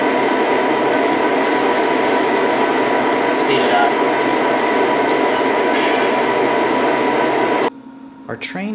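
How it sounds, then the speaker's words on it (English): A model intermodal train on a layout rumbles steadily along with continuous clattering and mechanical hum, then the noise suddenly drops away near the end. "today I'm pulling an intermodal train"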